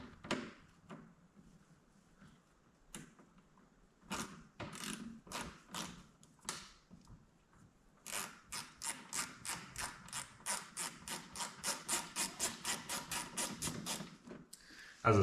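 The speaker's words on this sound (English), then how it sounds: "on the bottom, you have the same 7mm bolt to undo here on the inside" A mini ratchet undoes 7mm bolts on a Corvette C8 Z06, with close, crisp clicking in uneven bursts at first, then a long steady run of rhythmic ratcheting strokes, and no talk.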